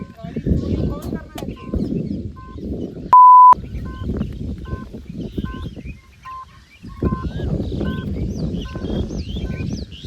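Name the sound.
Ather Rizta electric scooter theft-protection alarm beeping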